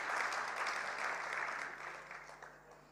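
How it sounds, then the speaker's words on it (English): Audience applause at a budget review dinner, a dense wash of clapping that starts full and gradually tapers off, sounding fairly distant and soft. "Let's give ourselves a massive round of applause."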